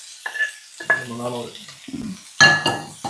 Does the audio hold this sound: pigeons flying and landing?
no